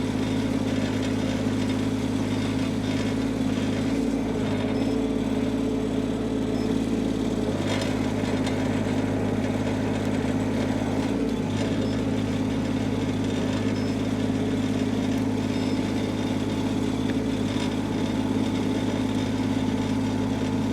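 Groundhog KH25D mini-excavator engine runs steadily at a constant idle-like drone while its hydraulics work the arm each direction and swing the turntable, a continuous loud mechanical hum with no talk.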